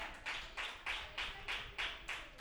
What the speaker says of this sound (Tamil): ஃபர்ஸ்ட் குரூப்பை கைத்தட்டி வரவேற்கலாம்.